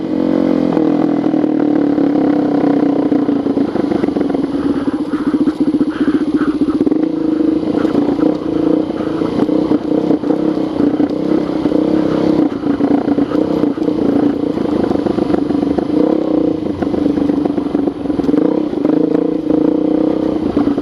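A 2013 Suzuki DRZ400sm motorcycle ridden on street tires, its engine droning loud and steady close by for the whole stretch, with small shifts in pitch as the throttle changes.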